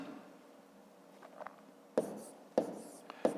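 Pen strokes scratch across paper as numbers are written by hand, faint quiet rubbing followed by a few sharper taps and scribbles, close and unaccompanied by talk.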